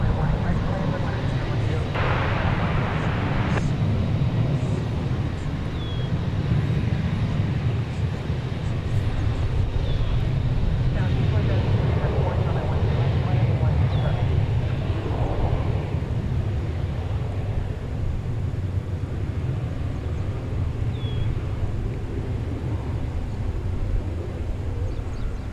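An American Airlines Boeing 737-800 bound for Spokane rumbles steadily at DFW Airport, a broad continuous roar heard from a distance, with a voice speaking over it.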